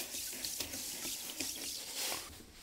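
Water runs steadily into a tank being filled for a citric acid rinse of Mazda 20B rotary engine castings. It is a soft, continuous splashing trickle with faint drips and no voices.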